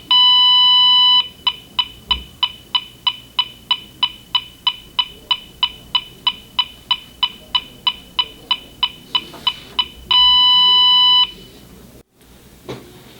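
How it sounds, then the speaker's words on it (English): A GE Interlogix NX security keypad sounds its exit delay countdown: a long steady tone, then a rapid even train of about two dozen sharp electronic beeps, then another sustained tone, loud and close. "You will hear the audible exit delay as the timer runs down."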